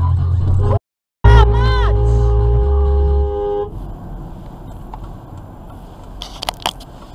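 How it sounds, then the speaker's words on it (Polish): Car horns honking in road traffic, a long steady blare with harmonic tones lasting a few seconds, briefly cut off, followed by a quieter street wash and faint later beeps. "Dlaczego oni na niego trąbią?"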